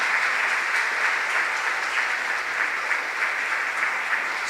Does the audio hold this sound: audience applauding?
yes